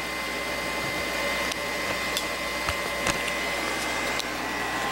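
A CNC machine under Mach3 control runs its program with a steady mechanical whine and hum, marked by a few sharp clicks and ticks, with no one speaking.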